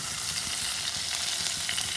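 Onions sizzling and frying in a pan for an ivy gourd and fresh coconut fry, a steady close crackling hiss with no voices.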